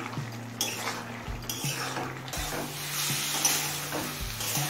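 A pumpkin and capsicum curry bubbling on a high flame, with a steady sizzle under repeated spoon scrapes and light clinks against the pan.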